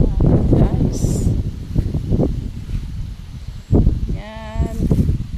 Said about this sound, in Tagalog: At guys, mahangin po dito